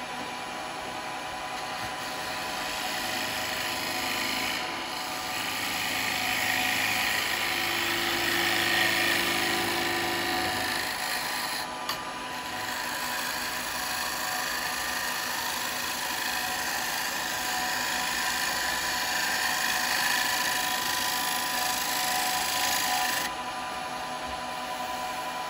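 A wood lathe spins a small piece being turned into a cowboy hat while a spindle gouge cuts, giving a steady whirring hum with a continuous rasping shave, loud and close, with pitch shifts as the cut changes.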